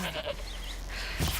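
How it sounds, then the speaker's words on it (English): A goat bleats in the video game Horizon Zero Dawn, a short wavering animal call over steady game ambience, with a louder burst near the end. "Goat!"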